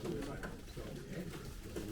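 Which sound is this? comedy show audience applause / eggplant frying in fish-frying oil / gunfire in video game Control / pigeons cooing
pigeons cooing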